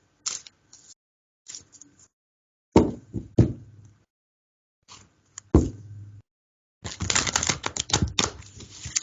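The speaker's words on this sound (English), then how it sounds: "Make one more shuffle." Cards are shuffled in quick riffling bursts with short pauses between, ending in a longer, denser flurry of flicking cards, close by.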